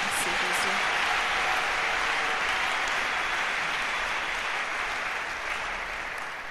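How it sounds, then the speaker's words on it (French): A church congregation applauding, steady loud clapping filling the whole stretch and easing off slightly toward the end, with a voice faintly audible underneath. "Acclamons le Seigneur Jésus"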